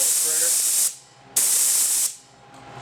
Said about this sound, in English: For my particular gun, it seems to spray best when I have 40 when I pull the trigger.